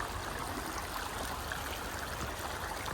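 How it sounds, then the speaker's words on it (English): A river on the Appalachian Trail rushes steadily near the path, a close, continuous broadband wash of flowing water with no pauses or voices. "We're about to cross the river to go up and over"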